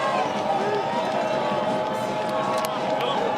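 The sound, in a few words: football crowd cheering on the Calvin defense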